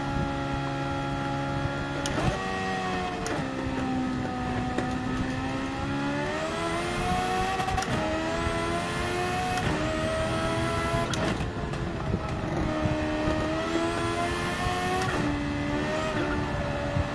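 Audi R8 engine in Gran Turismo 7, a steady loud drone with rising and falling harmonic sweeps as it shifts through gears, running continuously with no talk.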